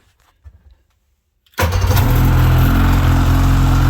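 An old engine, the vehicle just pulled from a trailer, catches after a few quiet clicks and roars to life abruptly, then runs loud and steady at a rough idle, close by.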